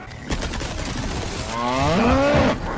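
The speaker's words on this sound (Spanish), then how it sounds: "Una jodida vaca." A cow moos in the Resident Evil 4 Remake video game, one long rising-and-falling call near the end, preceded by a few clanking thuds.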